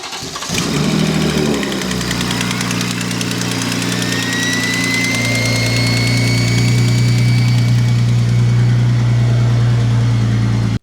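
A rebuilt BMW M4 engine cranks and fires after a short whirr, then settles into a loud, steady idle with a rising whine running through it, heard up close with no talking.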